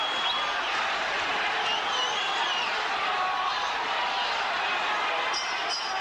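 A boxing arena crowd roars for Lester Ellis after the thirteenth round, a loud, sustained, dense cheer with scattered whistles and shouts riding on top throughout.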